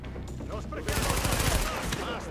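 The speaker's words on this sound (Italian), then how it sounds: "Ragazzi, mi stanno sparando." Bursts of automatic gunfire aimed at the player in The Division, a loud rapid rattle of shots that erupts after a quieter stretch where someone talks, continuing densely to the end.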